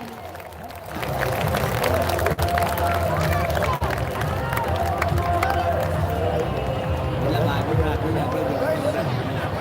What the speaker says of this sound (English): Parents, they have a demand that if you don't clap for them, they won't come.